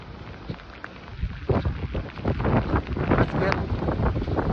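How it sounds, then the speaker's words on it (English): Strong wind buffets the microphone outdoors, heeling a sailboat well over. Rough, gusty roaring builds over a few seconds with irregular thumps, loud and close. "We're not even in the best, biggest part of the wind."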